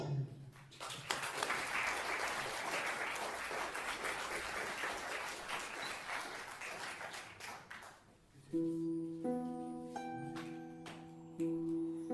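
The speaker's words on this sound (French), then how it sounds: "Je vous demande d'applaudir comme il se doit Fabien." Audience applauding at a magic show in a school hall, a broad burst of clapping that fades after about eight seconds, followed by bright tonal music notes.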